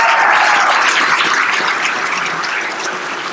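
Audience applause for a Seattle University swimmer at a university event, a broad, steady clapping from a crowd that slowly tapers off.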